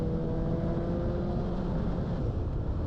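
Loud, steady rumble of a motorbike exhaust through an Akrapovic silencer with the DB killer removed, a deep continuous drone with tonal harmonics throughout and no change in level.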